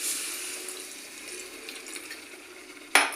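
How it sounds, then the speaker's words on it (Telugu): Water is poured into a pan of spicy bottle gourd and onion curry, a steady close splashing pour that ends with a sudden sharp clatter, with no voices. "వాటర్ యాడ్ చేసుకోండి."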